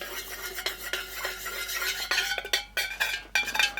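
A spoon stirs fragrance oil into melted soy wax in a container. It scrapes and taps repeatedly in an irregular rhythm, close and quiet, with no talking.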